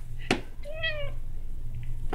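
A house cat gives a short, clear meow up close after a brief sharp noise, with a low background hum and no talk.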